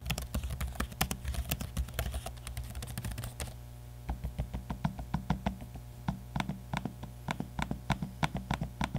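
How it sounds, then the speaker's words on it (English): Keys of an Asus ROG Zephyrus M16 laptop being typed on, then its trackpad clicked, making a fast close run of soft keystrokes that gives way to sparser, evenly spaced taps. "here's a quick audio sample of the keys, as well as the trackpad while in use."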